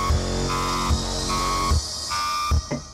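Synthetic alarm-like trailer sound effect from the Trailer Xpressions library by Sample Logic, with repeated buzzing tonal blasts and heavy low booms hitting roughly every second, loud and alone.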